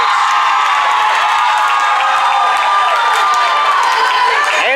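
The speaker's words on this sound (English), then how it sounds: "And the crowd erupts." A packed gym crowd roars after a point at a school volleyball semifinal, with a dense, steady wall of cheers, shouts and whoops that stays loud throughout.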